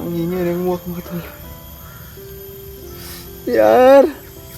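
Loud, harsh crow caws break out in a couple of bursts, close by, over a quiet outdoor background with insect hum.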